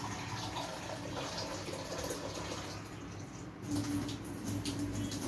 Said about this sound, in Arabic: فهننزل عليه ميه سخنه اهي